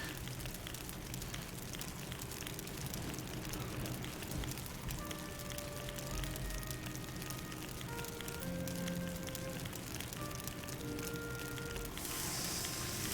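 Meat cooking on a rack over a fire in the video game Valheim gives a steady, faint sizzle and crackle that continues without a break.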